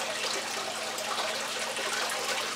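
Recycled water rushing over a grease table loaded with gravel for diamond recovery, a dense, steady wash of splashing flow, loud and unbroken throughout.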